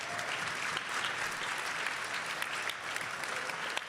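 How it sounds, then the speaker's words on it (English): An audience at a boot camp program applauds after a training session, with sustained, even clapping from a small-to-medium crowd that fills the whole moment without a break. "One more time, let's give him a round of applause."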